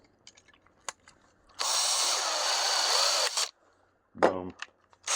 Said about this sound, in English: That'll hold it in place when I go to drill the other one